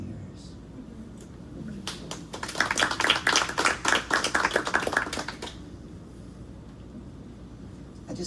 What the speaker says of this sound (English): I just love that, the applause after every poem.